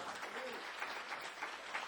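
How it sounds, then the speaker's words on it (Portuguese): A church congregation applauds in praise of Christ with a brisk, continuous clapping that stays steady and moderately loud, and faint voices mix in beneath it. "Você pode dar mais uma salva de palmas a Cristo?"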